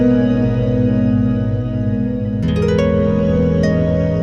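An electric instrument runs through the Darkstar mono reverb side of an Old Blood Noise Darklight pedal, sustained droning chords washing into a dense, smeared tail, with a fresh struck chord midway that blooms into lingering ambient reverb.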